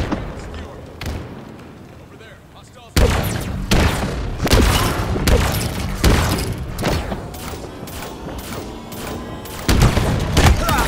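Heavy booming rocket explosions in Halo Infinite multiplayer, a series of loud thuds and blasts in irregular succession with a continuous roar of game action and a voice talking over it.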